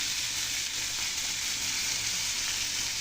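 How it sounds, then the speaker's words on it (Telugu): Washed crabs frying with softened onions in a pan give a steady, dense sizzle that stays even and close throughout, with no talking. "ఇప్పుడు ఏం చేయాలంటే మనం కడిగి పెట్టుకున్న ఎండ్రాయిలు వేసేద్దాం."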